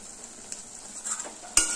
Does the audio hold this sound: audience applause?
no